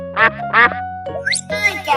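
A cartoon duck gives two loud, nasal quacks close up, followed by brief animated character vocal sounds and a rising whistle-like effect.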